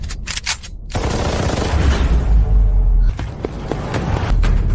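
Rapid gunfire bursts in a dramatic action scene, loud and sustained with dense overlapping shots and booming impacts, continuing for several seconds without speech.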